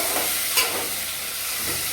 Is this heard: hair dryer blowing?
no